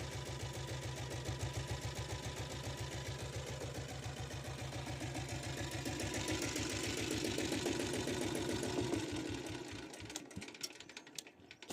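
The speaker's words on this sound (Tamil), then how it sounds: "வண்டி பீட் அருமையாக இருக்குது ஃப்ரெண்ட்ஸ் வண்டியில்." A 7.5 HP self-start diesel Royal Enfield Bullet idles with a steady, rapid thumping beat, close and loud, holding an even rhythm for about ten seconds before the engine note cuts away and trails off near the end.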